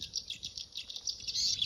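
Recorded bird chirps blaring from a megaphone along a roadside, a rapid, shrill, continuous twittering that swells louder toward the end, heard without talk.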